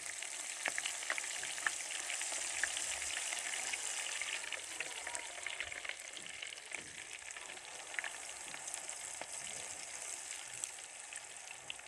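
Potato nimko fries in hot oil with a continuous, dense sizzle and crackle of bubbling, steady and close throughout.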